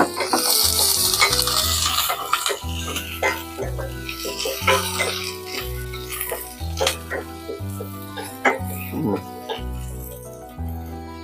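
Garlic and onion fry in a pan with steady sizzling and bursts of stirring, while background music with a strong bass line plays throughout.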